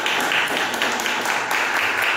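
Church congregation applauding, a dense continuous wash of many hands clapping in a reverberant hall, steady and fairly loud with faint voices mixed in.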